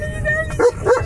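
A dog gives two short, close barks in quick succession after a brief quiet moment, loud and sharp, with a voice faintly present beneath.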